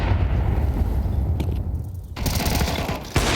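A grenade goes off in a Counter-Strike match on the Inferno map, a heavy low boom with a rumbling tail, set against steady game noise and distant gunfire.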